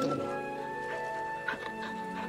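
Torgal, the dog companion in Final Fantasy 16, gives soft whimpering, contented sounds while being petted, set against a steady sustained musical drone.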